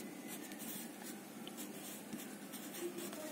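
The Hindi word क्षत्रिय being written by hand in a class lesson, a soft, continuous scratching of pen or chalk that stays faint and steady throughout with no speech.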